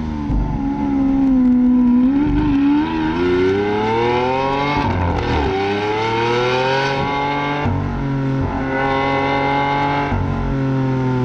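A Lamborghini Aventador SV V12 engine heard from inside the cabin, rising and falling through several revs and gear changes, a strong close drone under light road noise.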